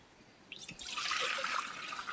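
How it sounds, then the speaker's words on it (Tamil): Water pours steadily into a cooking pot for Maggi noodles, starting faintly and swelling into a continuous splashing stream at close range with no talking. "ரெண்டு பாக்கெட்டுக்கு இந்த முக்காலும் தண்ணி ஊற்று"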